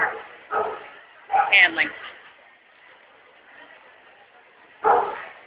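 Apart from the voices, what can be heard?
dog sounds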